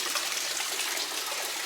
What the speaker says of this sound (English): they even have a waterfall in here and some fishes